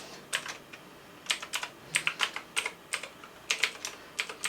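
Fingers typing a drive name on an Apple Silicon Mac keyboard, a quick uneven run of crisp, close key taps with short pauses between bursts.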